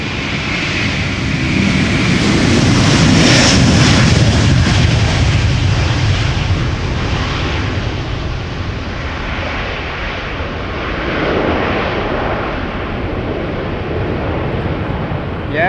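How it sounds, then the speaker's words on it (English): A KLM Airbus A321neo, registration PH-AXA, arrives at Amsterdam Schiphol with a steady, loud jet engine roar that builds, peaks early, then holds at a broad rumbling level before easing slightly. "And indeed the PH AXA arriving on Tuesday"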